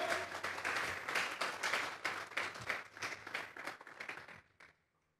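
A church congregation bursts into sustained applause, many hands clapping densely and loudly before fading out to silence near the end.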